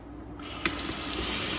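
A tap turns on for hand washing, and the water gushes into a sink in a steady close hiss that holds to the end.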